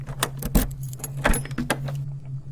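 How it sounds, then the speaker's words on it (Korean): A key slid into a door lock and the door opened, heard as light metallic jingling and clicks in short bursts over a low steady hum, close and fairly quiet. "떨리는 손으로 열쇠를 꽂고 문을 열었습니다."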